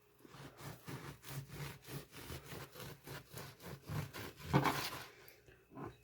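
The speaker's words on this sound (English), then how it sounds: "So I've got a bread slicing knife here." A bread slicing knife saws back and forth through soft bread in a steady run of quiet strokes, with a louder scrape near the end and no talking.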